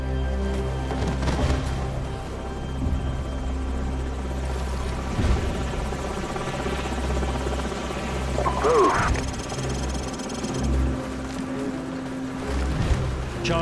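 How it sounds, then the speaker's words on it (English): Enemy helicopters in the shooter Call of Duty 4: Modern Warfare drone steadily, with a heavy, pulsing rotor thrum that persists throughout. Faint radio-style voices sit beneath it, and a brief rising tone sounds near the middle. "Enemy helicopters."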